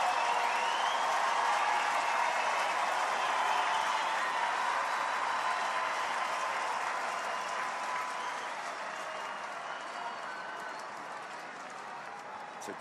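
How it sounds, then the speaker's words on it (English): A stadium crowd of baseball fans at Dodger Stadium applauds and cheers in a long, dense wash of clapping, steady and loud at first, then gradually tapering off. "Fans on their feet at Dodger Stadium applauding the effort by Glass now"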